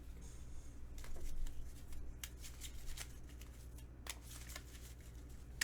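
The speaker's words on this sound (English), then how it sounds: "Shuffle it back up." A deck of playing cards from the Marvel Champions card game is shuffled close by, with quiet riffling and sharp repeated snaps of the cards over a low steady hum.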